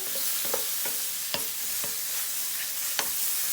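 Mushrooms brown in a hot pan, a continuous close sizzle broken by sharp scraping and knocking stirring strokes about every half second to second.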